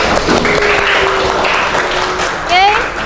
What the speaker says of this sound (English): Give applause for yourself.